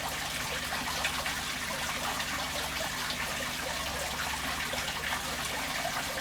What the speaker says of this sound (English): we're going to do a water change in Jack's tank as well today